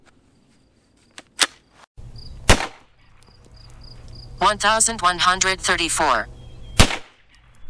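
Sharp gunshots from 9mm Speer Gold Dot 124 grain rounds fired through a 16-inch barrel: a few loud, isolated cracks spaced apart, with a chronograph beeping and a voice speaking between shots.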